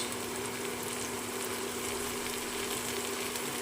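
Chopped tomatoes, cumin powder and Kashmiri chili powder sizzle softly in a pan for a fish curry, giving a faint, even hiss with a low steady hum beneath.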